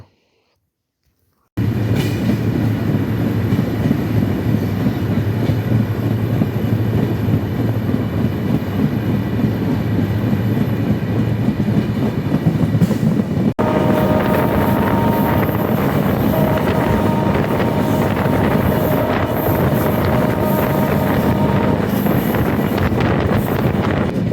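Ruposhi Bangla Express, train no. 827 on the Benapole to Dhaka route, rumbles steadily past a rail station in Jessore district, heard from on board with heavy wind buffeting the microphone and a continuous loud roar of wheels on track throughout.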